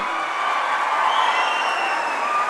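Audience at a political rally for Telangana CM Revanth Reddy claps in a sustained, even wash of applause that stays loud and dense throughout.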